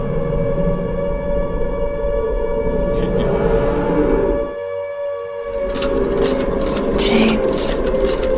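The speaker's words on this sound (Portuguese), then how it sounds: "A sirene toca." An air-raid style siren sounds in Silent Hill 2, a loud sustained droning wail with a low rumbling bed that briefly drops out midway before swelling back up, with no one talking.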